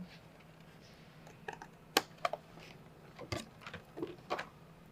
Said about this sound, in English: I'm going to put the scissors in that little hole I've made, and I'm just cutting out from that hole.